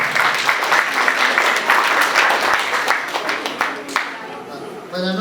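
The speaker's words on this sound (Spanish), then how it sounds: "Vengan los aplausos para Jonathan Vida." Guests at a baptism celebration burst into loud, dense applause that holds steady for several seconds, then tapers off as a speaker starts talking at the end.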